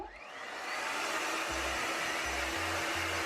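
A DK Electronics Unipro hands-free hair dryer held on a stand runs continuously, giving a close, steady blowing whoosh with a slight hum underneath and no talking.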